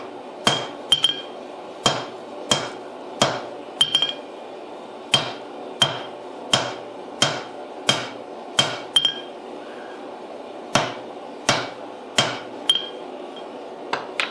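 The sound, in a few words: hammer forge welding a Damascus billet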